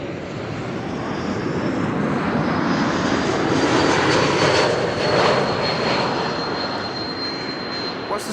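Suriname Airways Airbus A340-600 landing at Amsterdam Schiphol, a loud, sustained roar of jet engines with a steady high whine, swelling slightly mid-pass and holding close throughout.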